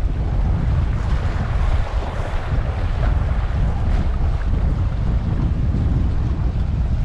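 Strong wind buffets the microphone outdoors on the water while bass fishing with a topwater lure, a loud continuous roar with waves and rushing air and no voices.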